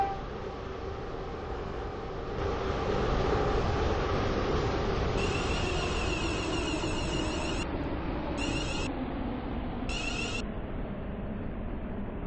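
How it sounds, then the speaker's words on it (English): A Class 707 train rolls steadily into Stepford Central station in a video game, a continuous rumbling run with brief high electronic tones chiming in bursts near the end. "This train is now approaching Stepford Central."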